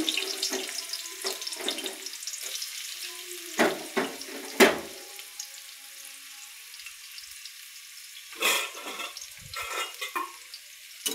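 Chopped onions and garlic go into hot oil in a home kitchen pan and sizzle steadily, with scattered clatters and scraping sounds from cooking utensils.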